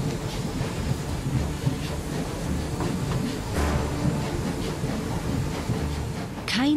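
The Orient Express locomotive runs on rails with a steady, loud rolling rumble that stays continuous throughout, with no clear talking.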